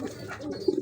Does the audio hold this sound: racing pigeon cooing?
yes